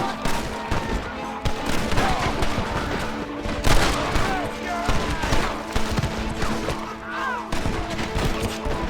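Dense gunfire during a shootout in Red Dead Redemption, several weapons firing in overlapping bursts with sharp impacts, loud and continuous under shouted voices and background noise.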